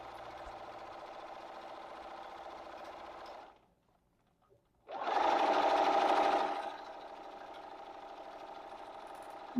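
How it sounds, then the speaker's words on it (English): Domestic sewing machine stitching in the ditch on a quilt, a steady whirring run that pauses for about a second, then resumes louder and fades back to an even hum. "So I'm going to go sew her down in the stitching ditch"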